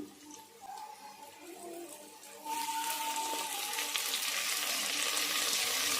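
Vegetables frying in a pan as ginger garlic paste is added, a steady sizzle that swells sharply louder partway through and stays loud to the end, with no talking.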